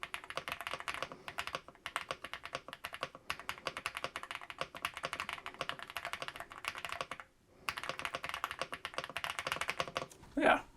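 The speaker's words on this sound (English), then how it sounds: "It does make a little noise, but it's definitely not as loud as some of those clicking keyboards." Continuous fast typing on an Aula 75-key wireless hot-swappable mechanical keyboard, a dense, moderately quiet clatter of keystrokes with a short pause partway through and a brief louder sound at the end.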